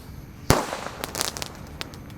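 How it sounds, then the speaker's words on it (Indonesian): A mini bazooka Roman candle firework bursts with one sharp loud bang, then a scatter of fainter crackling pops trailing off, heard alone with no voices. "di sini ada Basoka mini Roman candle. Kita nyalakan, guys."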